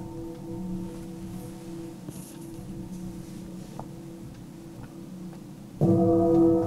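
Gongs struck with a hard yarn mallet ring out in long, slow, humming resonance, layered tones sustaining and fading gently, then a fresh louder stroke blooms near the end.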